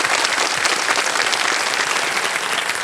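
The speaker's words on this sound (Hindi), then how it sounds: "एक बार इनके लिए ताली बज जाए।" Dense, steady applause from a TV quiz show studio audience fills the whole stretch, loud and close with no voices over it.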